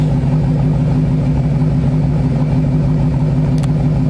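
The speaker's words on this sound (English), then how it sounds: "I'm gonna do a little bit of rev for you right here in the garage" A Hellcat car engine idles loud and close inside a garage, a steady deep rumble with a brief sharper rev near the end.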